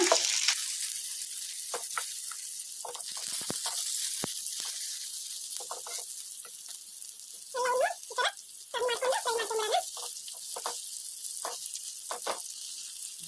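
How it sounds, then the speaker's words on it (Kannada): Stuffed mirchi chillies frying in a pan over medium flame, a continuous close hissing sizzle with intermittent crackles and spatters, briefly joined by faint talk midway. "ಇನ್ನೂ ಒಂದು ಎರಡು ನಿಮಿಷ ಹಾಗೆ ಫ್ರೈ ಮಾಡ್ಕೊಂಬಿಡೋಣ ಮೀಡಿಯಂ ಫ್ಲೇಮಲ್ಲಿ"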